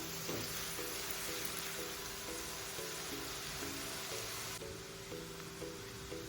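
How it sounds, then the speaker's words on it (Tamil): Onions frying in a pan until golden, a faint, even sizzle running throughout with a quiet, regular tapping pattern in the background. "வெங்காயம் கோல்டன் கலர் ஆன வரைக்கும் வேகட்டும்."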